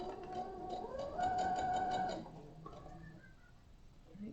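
A sewing machine stitches a seam on a quilt block, making a short run of rapid, even clicking over a soft motor hum. It is faint and close, and it stops partway through, leaving quiet room tone.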